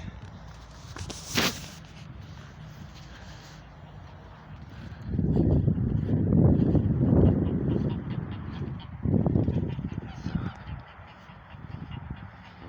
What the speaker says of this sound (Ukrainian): Ось такі гусі.